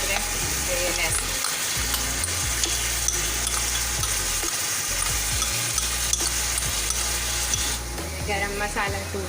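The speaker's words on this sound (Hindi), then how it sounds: "5 मिनट इसको अच्छी तरह भूनिए" Ginger-garlic paste, red chilli, turmeric and coriander powder frying in a pan for Sindhi chicken biryani; a continuous loud sizzle runs throughout, with a spoon scraping and stirring.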